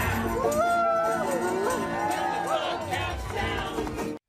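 A political rally crowd cheering and whooping loudly, with rising and falling shouts over a steady roar of voices that cuts off abruptly at the end.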